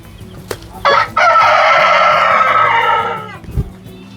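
A Galinha Balão rooster lets out one loud, long, close crow, with faint clucks and rustling before and after.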